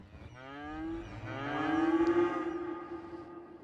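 A single long cow moo from the farm pastures of the city-building game Cities: Skylines rises and then fades over about three seconds, heard alone at moderate volume.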